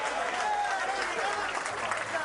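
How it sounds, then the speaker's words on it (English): Crowd at a professional bowling tour finals applauding and cheering, a steady, dense wash of clapping that fills the whole moment, with a commentator talking over it. "Great crowd here."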